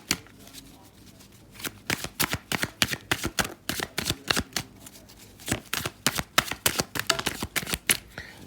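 Tarot cards shuffled by hand, a long run of rapid, crisp riffling snaps in quick rhythmic bursts, close up and clear, with a short pause midway and some speech nearby.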